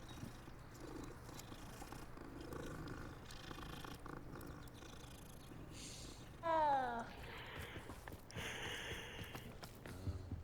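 A cat purring in the video game Hogwarts Legacy, a soft steady rumble that runs throughout, with a brief louder mew-like sound partway through over quiet game ambience.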